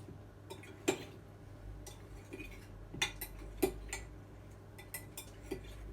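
Cauliflower florets tossed through a spicy batter in a bowl, giving soft wet stirring with a few sharp utensil clinks against the bowl edge, close and quiet, with no talking.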